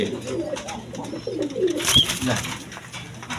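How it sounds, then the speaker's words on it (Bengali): Young racing pigeons give soft, low cooing under faint background talk and noise, a few short murmuring calls close by. "এক প্যার রেশারের বেবি কবুতর আছে"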